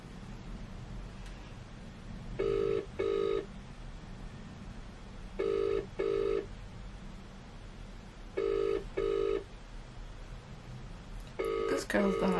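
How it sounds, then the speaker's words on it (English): Telephone ringback tone while a call waits to be answered, three double rings spaced evenly a few seconds apart over faint room noise before someone picks up. "This girl's gonna answer their phone."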